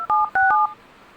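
Two quick phone keypad tones are dialed, short clean beeps in succession as a secret code is entered on a mobile phone, then faint background hum.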